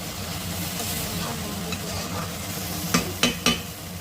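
Ridge gourd and potatoes frying with poppy seed paste in a pan, a steady sizzle with three quick scraping strokes of a spatula near the end.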